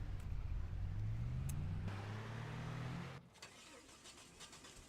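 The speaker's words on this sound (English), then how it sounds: "That sounds crazy when it starts up." A truck engine starts up in Farming Simulator 25, a rising whine of cranking into a loud rumbling rev that cuts off abruptly after about three seconds, leaving a faint steady hum.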